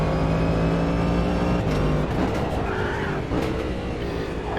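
In-car engine sound of the Cadillac DPi-V.R prototype race car in the rFactor 2 or Automobilista 2 racing sim, a loud continuous high-revving drone with shifting pitch and brief tyre noise, heard alone.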